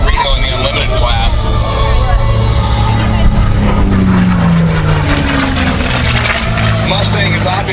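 A P-51 Mustang fighter with a Merlin engine flies past at an airshow, its loud propeller drone holding steady with a rising pitch sweep, set against constant crowd and ground noise.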